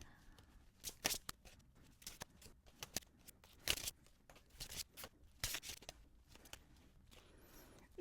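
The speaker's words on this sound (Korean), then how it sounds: "카드 뽑아보겠습니다" Tarot cards are drawn from a deck and laid out on a table, making a series of soft, close swishes, slides and light taps in an irregular rhythm, quiet and with no voice.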